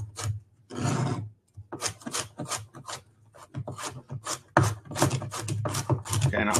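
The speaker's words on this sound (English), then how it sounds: "take my knife, tip down, and cut" A kitchen knife chops carrots on a cutting board in a quick, steady run of about a dozen close, crisp cuts, preceded by a brief scraping sweep.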